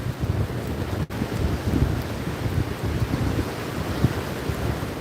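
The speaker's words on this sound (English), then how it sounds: "Way too windy." Strong wind roars and buffets the microphone throughout on a beach, with a low rumble of rough surf underneath and no voices.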